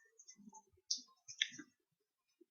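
Computer mouse clicking while working in Microsoft Excel: a few faint, close, sharp clicks scattered in quick succession, with quiet between them.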